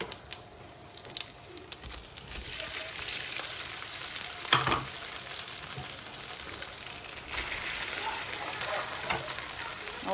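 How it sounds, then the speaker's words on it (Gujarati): Pieces of dhokla sizzle and crackle in hot oil tempered with sesame seeds and asafoetida, with occasional stirring clinks over a steady frying hiss. "તો જોઈ લો ઢોકળાનો વઘાર થઈ ગયો છે"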